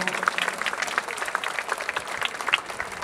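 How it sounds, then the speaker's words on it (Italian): An audience claps steadily and densely at an outdoor concert by a town marching band, a continuous wash of applause from a crowd without individual voices. "Quindi un applauso fortissimo."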